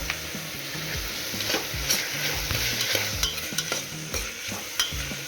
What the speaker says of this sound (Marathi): छान टमॅटो परत परतून घ्यायचा